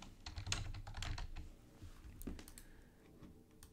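Keys on a computer keyboard are typed in a quick run of close, light clicks that thin out toward the end, with no one talking.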